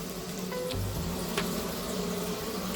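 Smash burgers sizzling on a hot griddle, a steady close frying hiss throughout with faint scraping, no voices.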